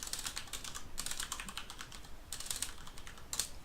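Fast typing on a computer keyboard, with dense bursts of key clicks broken by short pauses, close and steady, with no voices.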